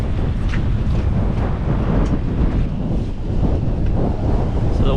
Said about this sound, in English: So the wind is picking up pretty good.